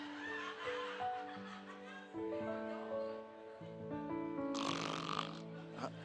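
Imitated snoring rumbles along steadily beneath dense music and background voices, a low continuous rasp that never stands out loudly, with a brighter noisy swell near the end.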